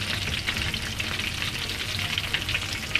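Chicken drumsticks fry in hot oil with a continuous close crackling sizzle, and a spoon turns them with faint scraping and light clinks near the end.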